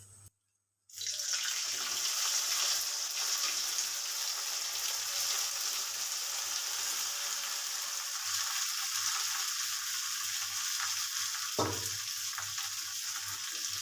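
Potatoes frying in hot mustard oil with cumin for a homemade samosa filling give a steady, close sizzle that starts after a second of quiet, with a brief stir or scrape near the end.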